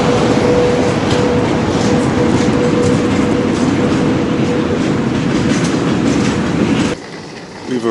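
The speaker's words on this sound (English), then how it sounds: "There's a loud train going past me." A loud train on a Russian railway rushes past at close range, a continuous roar of wheels and rail noise with rhythmic clatter and a thin squeal, ending suddenly as it clears.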